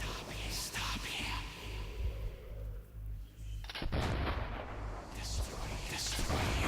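Gunshots in the video game Metro 2033 Redux, with a sharp loud burst partway through followed by continued dense gunfire and low rumbling, mixed with faint game voices and background noise.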